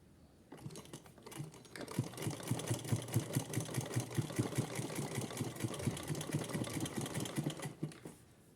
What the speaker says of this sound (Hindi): अब हम इस पर यहाँ सिलाई लगाएंगे।